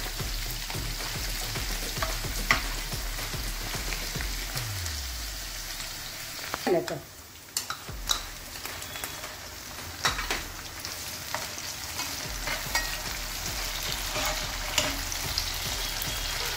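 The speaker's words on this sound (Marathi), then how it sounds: "कांदा करपूस कलर भाजू दे।" Chopped onion fries in a pan, with a dense, continuous sizzle broken now and then by spatula scrapes and clinks as it is stirred; the sizzle briefly drops midway before resuming, with no voice.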